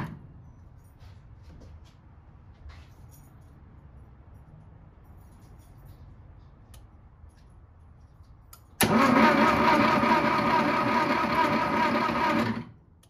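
A Porsche 914 engine cranks on its starter for about four seconds, a loud steady mechanical whirring that cuts in abruptly after a long stretch of quiet background and stops sharply.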